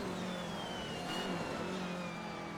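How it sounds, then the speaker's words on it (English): Opponent race cars in Assetto Corsa on PS4 sweep past with a rising then falling exhaust note, a fairly faint engine drone that carries on with no talking. "The exhaust sound from the opponents is really good."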